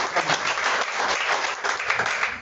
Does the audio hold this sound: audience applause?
yes